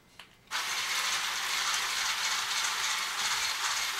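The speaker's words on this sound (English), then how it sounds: "we're going to take a hand mixer and we're going to go ahead and mix up these ingredients" An electric hand mixer runs steadily through cake ingredients for passover baking, a continuous whirring buzz starting after a short pause and holding at a close, even level without talk.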